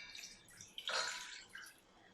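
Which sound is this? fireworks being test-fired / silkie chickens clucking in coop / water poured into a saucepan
water poured into a saucepan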